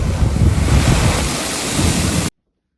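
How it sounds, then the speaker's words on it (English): Ocean waves surging against rock and forcing water through a blowhole, a loud, rough rushing roar mixed with wind noise that lasts about two seconds before cutting off to silence. "This blowhole channels the pressure of incoming waves and blasts massive jets of water high into the air."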